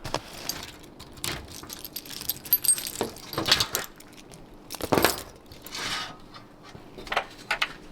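Keys jangle and clink in irregular bursts, close by, on a narrowboat out of the water in the rain, with metallic rattles scattered throughout and a faint background hum.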